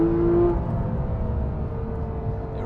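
A Porsche 911 991.1 GT3 with PDK gearbox accelerates hard in second gear, a loud steady engine howl heard from inside the car with a whining tone, no talking.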